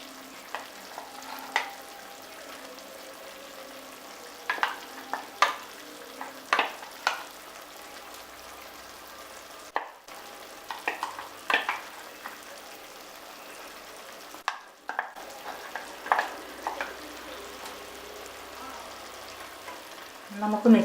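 Ground shallot paste hits a pan of Kerala-style duck curry, giving a low sizzle broken by sharp stirring scrapes and clatters of a spoon against the pan, with brief quiet gaps in between.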